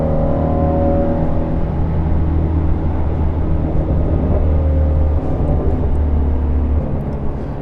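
Ford Shelby GT350 engine droning steadily while driving, a loud continuous low rumble with shifting tonal harmonics as it changes gears, sustained throughout.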